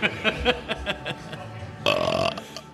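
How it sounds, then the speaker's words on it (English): A loud, hot-sounding burp erupts near the end of a run of scattered close grunts and breaths, a dense raspy belch that lasts under half a second. "Get ready for a real hot burp right now."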